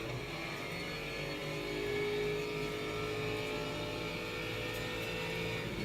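Race car engine heard from onboard in a sim racing game at Sebring, a steady droning whine that rises slightly and then holds, moderately quiet and continuous with no speech.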